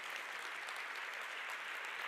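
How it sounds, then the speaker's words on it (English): An audience applauds steadily for about two seconds, a dense wash of clapping at a moderate, distant level with no speech over it. "Give it up for a round of applause."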